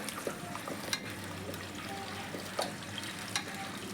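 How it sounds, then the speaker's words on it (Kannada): Moong dal fries in oil in a pan for khichdi with a steady close sizzle and crackle, broken by occasional stirring clicks. "ಸ್ವಲ್ಪ ಫ್ರೈ ಮಾಡ್ಕೊಳ್ಳಿ."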